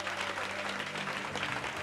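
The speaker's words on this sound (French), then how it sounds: "Quelqu'un acclame au Saint-Esprit" A church congregation at a fasting and prayer service in Togo claps and cheers together in steady, dense applause, close and continuous, with voices mixed into the crowd noise.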